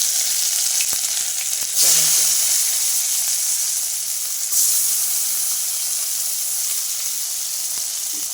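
Ginger frying in a pan over a low gas flame, a loud, close, steady sizzle that holds throughout, with a brief stirring scrape early on.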